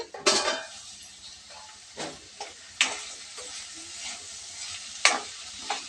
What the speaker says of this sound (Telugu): ఈ మామిడికాయ ముక్కలు కూడా కాసేపు మగ్గనిద్దామండి